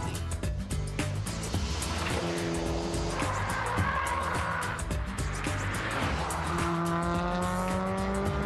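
A race car driven hard at the limit during track testing: a loud, sustained engine note rising and falling through gear changes, with tire squeal and skidding layered over it, no talk.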